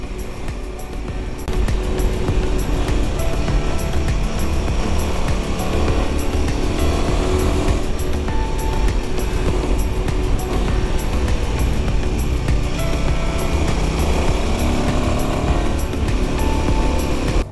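A Royal Enfield Himalayan 450 motorcycle engine and exhaust drone steadily while riding, a continuous loud rumble mixed with wind noise throughout.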